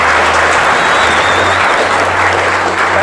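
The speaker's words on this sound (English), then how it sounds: "You should give yourselves a huge round of applause." A conference audience breaks into dense, loud applause after a talk, a steady wash of clapping that fills the whole moment.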